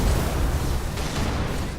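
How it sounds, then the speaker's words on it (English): A Covenant Phantom dropship explodes in Halo 3, a dense, loud blast that rumbles steadily through the whole short burst with no voices. "So watch this epic explosion if I manage to kill it."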